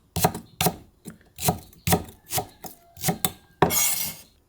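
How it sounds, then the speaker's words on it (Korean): Green onions (scallions) are sliced for yeolmu kimchi, the knife striking the board in about nine close, crisp chops at an even rhythm, ending in a longer scraping stroke, with no talking. "열무김치에 들어갈 쪽파인데요. 이렇게 썰어주세요."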